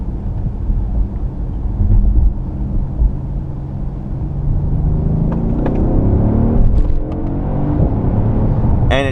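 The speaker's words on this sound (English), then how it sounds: "You do get a nice sound, like a popping sound when the gears are changing up" A 2015 Mercedes-Benz S63 AMG Coupe engine rumbles steadily from inside the cabin on a wet road, with rising revs and short sharp pops as the gears change up near the end.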